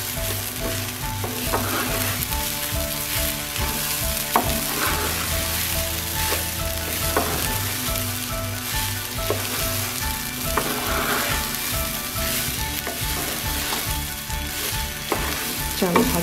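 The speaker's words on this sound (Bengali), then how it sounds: "চাল ভাজা হয়ে গিয়েছে" Rice and lentils fry in a pot for bhuna khichuri, making a dense, continuous sizzle. Regular scraping stir strokes sound up close throughout, with no one talking.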